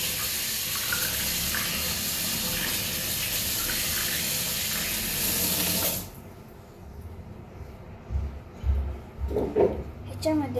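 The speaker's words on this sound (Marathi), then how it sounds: "ह्याच्यामध्ये मी पाणी भरले।" Tap water runs into a plastic container with a steady close rush for about six seconds. The flow then stops, followed by a few nearby knocks and handling bumps.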